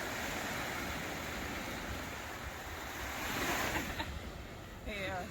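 Waves rolling onto a beach near a pier, a steady soft wash of surf mixed with wind rumble against the microphone, fairly faint and continuous, with a brief faint voice near the end.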